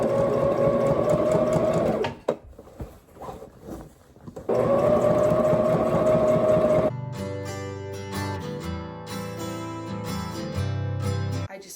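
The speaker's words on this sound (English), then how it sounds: "I just finished sewing like the second tier on" A sewing machine stitches a tier onto a skirt made from an old sheet, running in two steady bursts with a brief pause between, then a different tonal, music-like passage follows.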